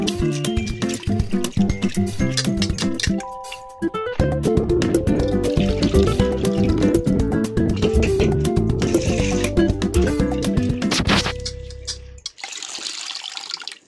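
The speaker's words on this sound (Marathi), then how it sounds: "डाळ स्वच्छ धुवून घेऊ." Lentils (dal) are washed under running water, with a loud steady splash and gush of tap water, sloshing and clinks of a vessel, and then draining and drips as the flow stops near the end.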